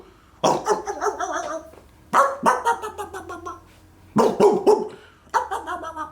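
Dogs bark in the morning in four sharp, repeated bursts with short pauses between them, loud and close.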